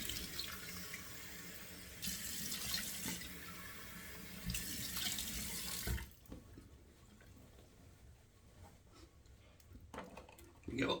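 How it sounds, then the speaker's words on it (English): Cold water running from a bathroom sink tap during a shave, a hissing splashy stream that swells and dips for about six seconds, then stops, leaving quiet drips and faint handling sounds. "turning on the cold water"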